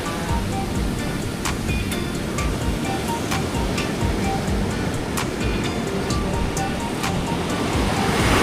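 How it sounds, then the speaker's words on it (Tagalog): Loud sea waves crash and churn against the shore at Isla Malaya, Dingalan, Aurora, in a continuous roar, with sharp splashes breaking through now and then. "Nanig niyo yung tunog ng tubig ng dagat oh."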